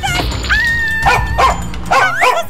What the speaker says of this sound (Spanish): ¡Ay, perro! ¡Deja de ladrarme!